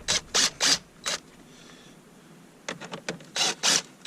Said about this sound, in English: we're going to remove the bolts that hold the air ducts on and the heater control assembly